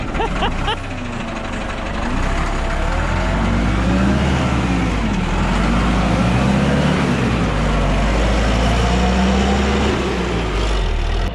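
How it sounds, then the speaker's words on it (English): A road grader's engine drones and labors loudly and continuously as it is driven, its pitch wavering with throttle and gear changes, close by and with no clear speech over it. "that's how a hillbilly drives a grader"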